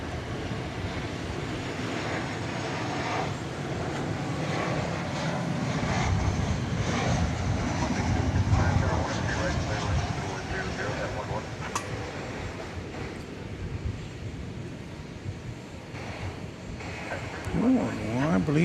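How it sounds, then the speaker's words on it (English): An Airbus A380 pulls out of its parking space at Terminal D at DFW Airport at night, a low, steady engine rumble swelling and easing in the middle distance, with a voice speaking faintly at times. "I believe I did see the big and mighty Airbus A380, which is pulling out of its parking space at Terminal D."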